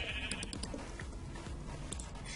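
Sheep bleating in Minecraft, several short blocky bleats repeating over a busy game background with clicks and rustling, no voices.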